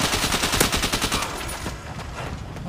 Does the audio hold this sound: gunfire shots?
yes